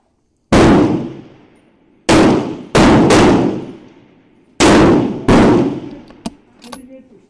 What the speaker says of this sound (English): Just dry fire it.